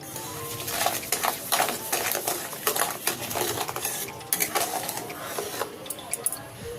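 A spoon stirs pineapple pulp and sugar in a pan for homemade jam, giving a steady run of close scraping clicks and soft clatter.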